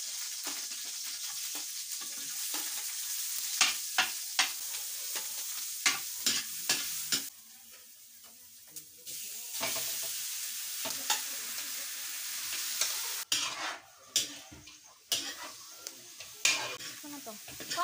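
Native chicken fries in a large wok under a constant loud sizzle while a utensil scrapes and clanks against the metal in irregular strokes. A brief quieter stretch breaks the sound in the middle, with faint voices at times.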